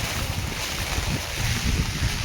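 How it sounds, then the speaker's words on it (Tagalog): Strong typhoon wind buffets the microphone with a constant roaring rush, loud and unbroken throughout, at a riverside trading post in the early morning. "Grabe Lakas ng hangin dito"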